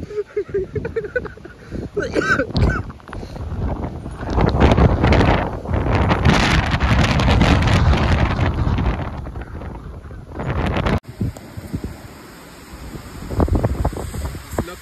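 Strong, gusty wind blasts near a waterfall, roaring and buffeting loudly and unevenly with brief lulls, with voices heard in places.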